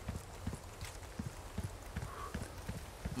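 Hoofed footsteps of a cow approaching in the Resident Evil 4 Remake village, a steady plodding clop of hooves at an even walking rhythm, moderately close and fairly quiet, alone without talk.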